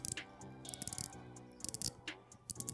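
Faint, quick ratcheting clicks come in short bursts as the ceramic bezel of a Steeldive SD1958V automatic dive watch is turned, sitting softly over a steady low tonal background.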